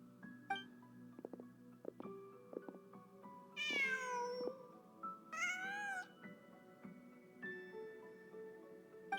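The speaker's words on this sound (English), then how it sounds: "Just a cat." Cat meowing in Genshin Impact, several drawn-out, wavering meows rising over a sparse game soundscape of soft tones and clicks, fairly close and clear with pauses between calls.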